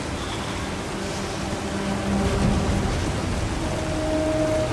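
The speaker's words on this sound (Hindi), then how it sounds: "बारिश बहुत ज़्यादा तेज़ हो रही है" Heavy rain pours steadily in the video game 007 First Light, a dense, even wash of noise that swells slightly halfway through, with faint low rumbles underneath and no talking.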